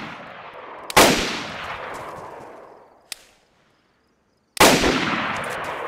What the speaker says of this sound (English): Oh, you're shooting at someone.